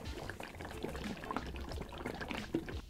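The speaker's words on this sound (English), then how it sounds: "And I'm gonna be pouring some into a cup" Max Strip stripper liquid poured from a shaken bottle into a cup, a steady close trickle running for the whole stretch with no talk over it.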